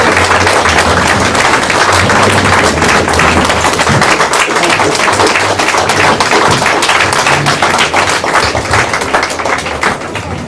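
Sustained, loud applause from a crowd fills a veterans' dinner hall, dense clapping continuing without a break for about ten seconds.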